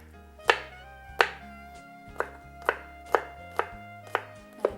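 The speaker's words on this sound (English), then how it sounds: "I have 4 garlic cloves that I will chop finally." Knife chopping garlic cloves on a cutting board, about nine crisp separate knocks at a slow uneven pace, close and clear over faint background music, no talking.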